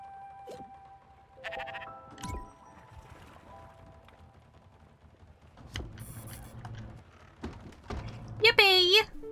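Sheep bleating in the video game Spiritfarer: short, nasal bleats stand out against sparse game sounds and clicks, with a sharper, louder bleat near the end.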